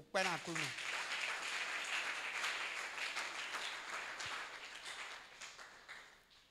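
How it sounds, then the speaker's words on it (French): A church seminar congregation applauding, a broad sustained clapping that fills the room for several seconds before fading, with a voice briefly heard at the start. "On acclame le Seigneur"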